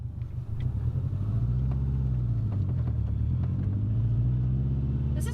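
A Subaru GC8 2.5 RS driving in third gear, its engine giving a steady low rumble from inside the cabin with a slight rise in pitch as it pulls, continuous with no talk over it.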